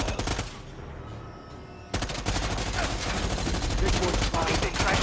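Automatic gunfire in the Predator Hunting Grounds video game, rapid sustained bursts that pause briefly and then resume dense and loud.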